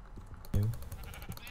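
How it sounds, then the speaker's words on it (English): A single sheep bleat from the video game Minecraft, short and fairly loud, sounding over faint keyboard typing. "And I got sheep now."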